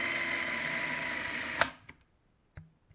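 A Konishiroku Rokuoh-Sha Type 89 Japanese gun camera mechanism runs as a fast, steady, loud whirring buzz. It then stops abruptly with a click, followed by a few faint clicks and knocks.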